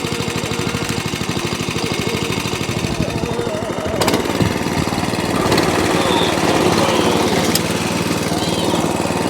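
An Atco Balmoral cylinder mower's small petrol engine runs after a service, a loud, close, rapid pulsing chug that steadies at idle and rises slightly as the throttle opens.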